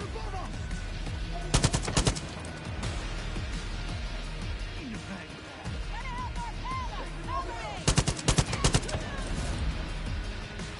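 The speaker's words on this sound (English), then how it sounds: "Expert assault rifle." Short, loud bursts of assault rifle fire in Far Cry New Dawn, two distinct volleys separated by several seconds of quieter game ambience and scattered effects.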